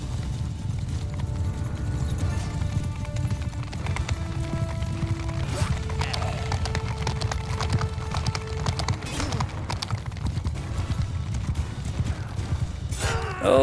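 Horse hooves galloping in the medieval battle game Mount & Blade II Bannerlord, a rapid, steady clip-clop drumming throughout over a low battlefield rumble, with brief tonal game sounds partway through.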